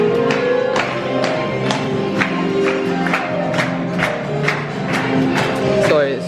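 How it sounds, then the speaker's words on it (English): Clapping and crowd noise from a Tigger character show at a restaurant inside the Disneyland Hotel in Disneyland Paris, heard as a steady run of sharp, repeated claps over a busy room murmur with music-like tones underneath. "So that's what all that clapping is."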